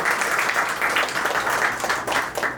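Loud audience applause for a coach at a company event, a dense continuous crowd of clapping hands sustained throughout the short stretch.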